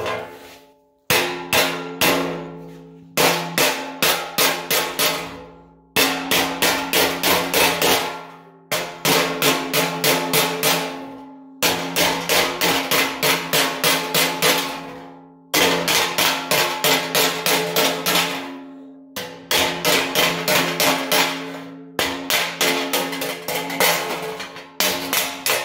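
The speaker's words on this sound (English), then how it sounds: "bend it over by hand, use the hammer or dolly, and just slowly work it" A hammer and dolly shape a recycled metal panel by hand, giving sharp, ringing metallic strikes in quick repeated bursts separated by short pauses, loud and close.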